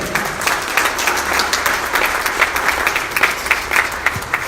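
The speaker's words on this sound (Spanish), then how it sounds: "Dale otro aplauso a nuestro Rey." A congregation at a Spanish-language church service on the resurrection gives sustained, lively applause, a steady wash of many hands clapping close by with no voices over it.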